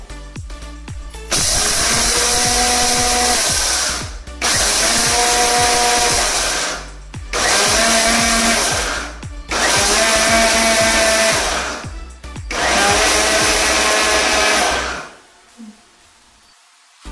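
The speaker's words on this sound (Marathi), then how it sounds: "चला तर आपण हे आता मिश्रण बारीक करून घेऊया।" An electric kitchen mixer grinds a dry idli podi spice mixture in loud, whirring bursts, five runs of about two to three seconds each separated by brief pauses, the motor pitch rising and settling each time before stopping.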